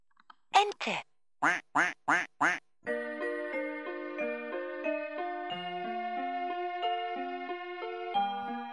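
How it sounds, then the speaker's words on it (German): A 2009 VTech Singspaß toy microphone plays five loud electronic duck quacks in quick succession, then switches to a bright, steady electronic melody that carries on to the end. "Ente."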